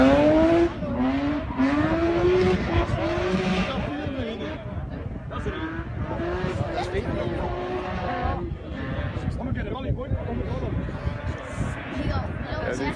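A BMW rally car approaches at full effort along a rally stage, its engine note climbing and building steadily for the whole stretch, mixed in with commentators talking throughout.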